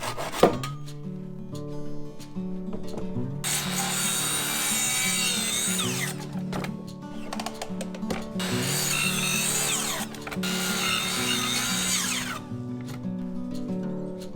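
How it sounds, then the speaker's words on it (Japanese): A hand or power saw cuts through a Japanese pine stair stringer in a carpentry shop, three long, loud rasping cutting passes separated by brief pauses, with a soft knock near the start and no talking. "そのために反対側を切って手前からまたゆっくり切り落とすようにします。"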